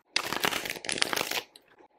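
Tarot cards being shuffled by hand, a close, crisp riffling burst lasting over a second with a brief pause in the middle, then quiet.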